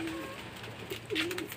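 Racing pigeon cooing outside a loft, two soft throaty coos, one at the start and one near the end, fairly faint against a quiet background.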